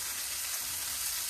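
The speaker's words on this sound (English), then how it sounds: "I may be frying a few so that I have some chicken for the week." Chicken frying in a pan gives a steady, even sizzle and hiss of hot grease, fairly close and continuous with no voices.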